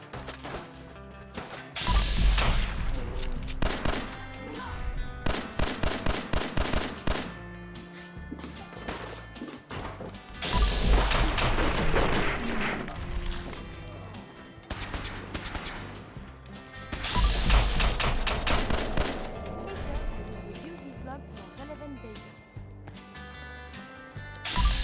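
A Nuka-Cola gun fires in Fallout 4 VR in three loud bursts of rapid, sharp, crashing shots, with short pauses between volleys.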